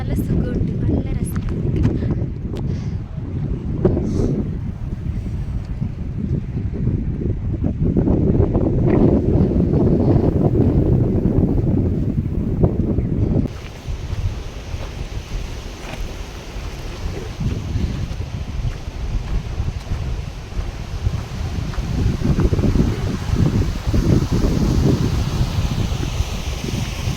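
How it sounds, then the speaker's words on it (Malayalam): Cold wind gusts across a mountain trekking trail near Mana village in the Himalayas, a steady, loud roar buffeting the microphone for the whole stretch, with people talking beneath it. "നല്ല തണുത്ത കാറ്റടിക്കുന്നുണ്ട്, പക്ഷെ നല്ല സുഖമുണ്ട്"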